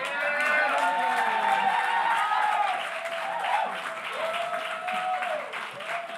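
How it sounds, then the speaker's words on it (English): An audience at a National Action Network Martin Luther King Day event applauds as the Honorable Cordell Clear is introduced, giving sustained, fairly loud clapping with raised voices and cheers mixed through it. "Let's give a round of applause for our very own, none other than the Honorable Cordell Clear"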